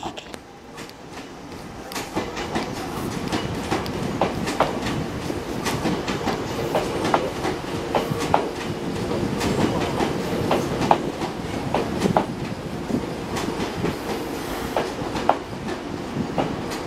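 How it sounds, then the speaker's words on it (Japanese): Meitetsu 3500 series out-of-service train pulling into platform 1 at Toyotashi Station, wheels clattering in a steady clickety-clack with intermittent squeaks and sharp clicks, close and continuous for the whole stretch. "1番線回送列車でございます。 ご乗車できませんのでご注意願います。"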